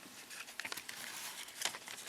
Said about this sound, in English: Cut with the grain, which I'll do right now.